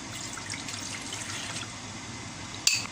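Plain water pours into a mixing bowl with soy sauce, garlic, chili and salt for a Thai chive cake batter, a steady close trickle running throughout before a brief clink near the end.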